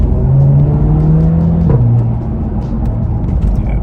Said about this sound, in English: Yeah, the backfires are just simply lovely.